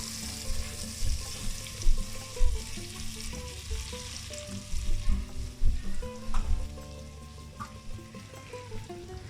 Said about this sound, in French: on met le beurre dans notre marmite et on le laisse fondre jusqu'à la fin